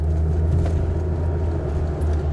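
A car cruising steadily along a road, heard from inside as a continuous low engine and tyre rumble with a constant loud drone and no speech.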